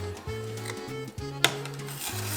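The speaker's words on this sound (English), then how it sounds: "I'm gonna wash off my hands really quick and grab my dough scraper" A dough scraper drags across a kitchen counter to lift off stuck homemade pasta dough. It makes a series of close, rasping scrapes in short, repeated strokes, with one sharper knock partway through.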